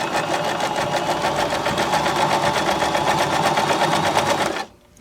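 A Baby Lock Zest sewing machine stitches fabric in one loud, continuous buzzing run with a fast regular needle rhythm, stopping abruptly just before the end.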